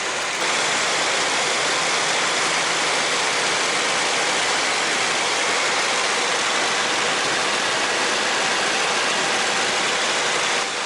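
A P-40N Kittyhawk fighter's engine at cruise power in flight, a loud, unbroken broadband roar heard from inside the aircraft, steady and unvarying in level with a faint low drone beneath the rushing noise.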